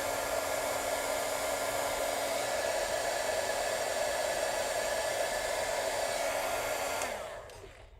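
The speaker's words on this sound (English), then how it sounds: "We'll heat emboss this." Heat tool used for heat embossing on a card, a steady loud blowing roar that holds for about seven seconds before switching off and winding down.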